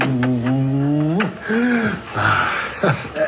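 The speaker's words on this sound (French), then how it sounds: "T'es la plus belle chienne du monde, Charlie." A female dog whimpering and whining close by, with drawn-out rising and falling tones and short yips, while a person speaks to her affectionately.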